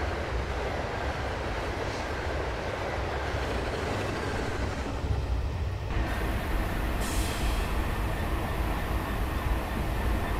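A Class 66 DRS diesel freight train in Train Simulator 2016, running the Carlisle to Coatbridge route, gives a steady, loud rumble of engine and wagons with a brief hiss partway through, and no voices.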